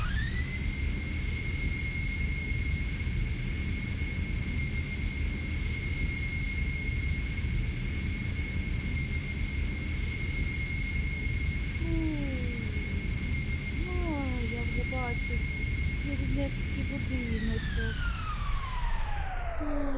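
Steady droning helicopter engine hum in the video game Chicken Gun, with a high sustained whine, continuous and loud throughout, fading near the end, with brief chirping tones layered over it.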